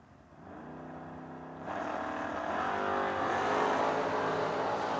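Drag race cars on a strip launching and pulling hard, a steady engine drone that jumps louder partway through and holds at full roar to the end.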